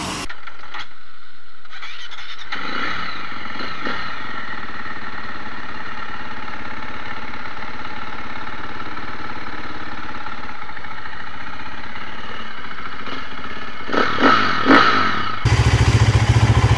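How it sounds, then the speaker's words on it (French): A motorcycle engine fires up and settles into a steady, loud idle to warm up before washing, with a low continuous rumble and some clattering, a brief rev burst near the end. "une fois que le bouchon est enlevé, que la moto chauffe pendant 1 ou 2 minutes"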